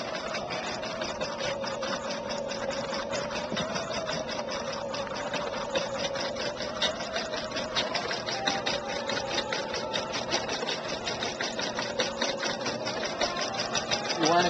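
Sewing machine stitching steadily, a fast, even mechanical whir and tapping that holds at the same close level throughout with no pauses.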